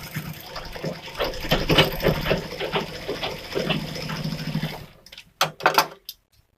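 A sewing machine runs steadily for about five seconds while stitching a katori cut blouse, whirring close by. It stops and a few short knocks and clicks follow.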